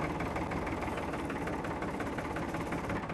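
A tractor engine idles in Ghana, a steady, dense, low rumble with a faint knocking vibration, holding constant with no talking.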